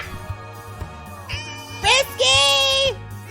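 A cat meows twice, drawn-out and strained, over a steady background of music with a low beat, the second cry longer and louder.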